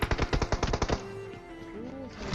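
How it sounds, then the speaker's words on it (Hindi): Rapid automatic gunfire in PUBG Mobile: about ten sharp shots in quick rhythm over the first second, then a low tonal game ambience with no further shots. "अब इस तरफ से भी फायर आता है।"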